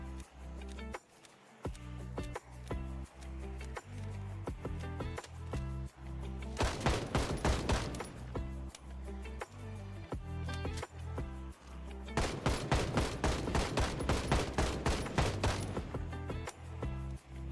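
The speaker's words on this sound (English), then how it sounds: "I'm actually underwhelmed by this gun. Like, it fires faster, and it does pretty decent killing." Rapid automatic gunfire from a gun in the zombie survival game Project Zomboid, in two long sustained bursts of fast, evenly spaced shots over a steady game background, with no talking.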